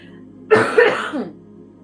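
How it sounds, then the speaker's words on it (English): A single rough, throaty cough with a couple of pulses, close and fairly loud over a low steady hum. "That cough."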